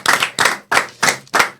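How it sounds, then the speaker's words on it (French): Five sharp, evenly spaced claps, loud and close, from an audience on a French live singing talent show celebrating a singer's winning performance. "On peut l'applaudir, elle le mérite."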